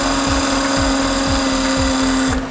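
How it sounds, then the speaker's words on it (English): A jigsaw cuts through a faux brick wall panel to square off its edge, buzzing loud and close with a steady motor whine and rapid rhythmic blade strokes from start to finish. "now we're going to take our jigsaw, square off the panel so we have a nice crisp edge"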